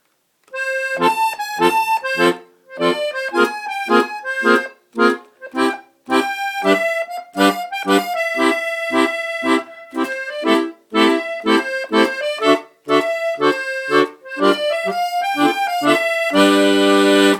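A Stradella bass accordion plays the "Woody Woodpecker" melody over chords with bright, reedy tones. The notes are short and rhythmic, and a sustained full chord ends the passage.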